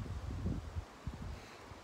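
Gusty wind buffeting the microphone in low rumbling bursts, with faint rustling in between, outdoors in a forest during a grouse hunting trip.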